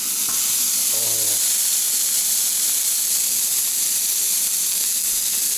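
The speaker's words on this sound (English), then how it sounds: "We're heating up right now because we're going to cook some Wagyu burgers" Wagyu beef burgers on a hot Blackstone flat top griddle give a loud, steady sizzle and hiss that stays even from start to finish, with no talk.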